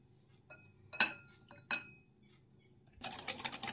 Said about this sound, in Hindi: तो चलिए दही को हम अच्छे से फेंट लेते हैं।